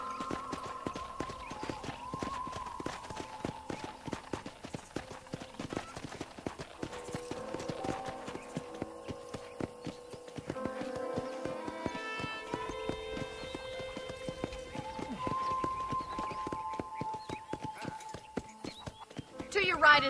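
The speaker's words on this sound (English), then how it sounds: "let's see if you can still ride a horse" Horse hooves clip-clop in a steady walking rhythm while riding in the Western video game Red Dead Redemption, heard alongside tonal game music and spoken dialogue throughout.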